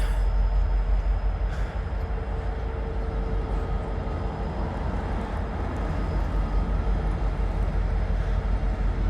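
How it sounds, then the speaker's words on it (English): A BNSF freight train led by three locomotives rolls through town without stopping, a continuous loud rumble with a heavy low end that holds steady throughout, with no talking. "This train's booking. I don't think he's gonna stop. Coming right through town."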